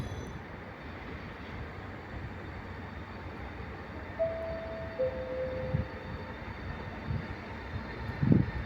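A regional train pulling into a station platform at Padova, a low continuous rumble of rolling wheels with faint squeals and a few clanks, moderately distant.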